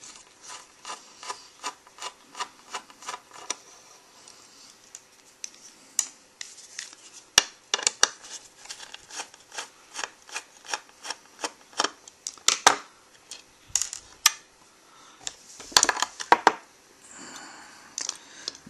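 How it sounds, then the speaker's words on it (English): Screws being backed out of a hard drive casing with a small driver, a dense run of close, dry scraping and rubbing clicks with sharper metallic ticks scattered through, no voices. "We want to take these screws out next."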